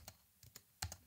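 Keystrokes on a computer keyboard as a command is typed, a few sparse clicks followed by a quicker cluster of taps, close and clear with no talking.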